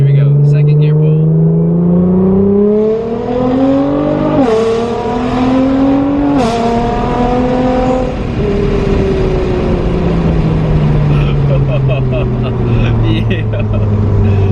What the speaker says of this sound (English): Here we go, second gear pull.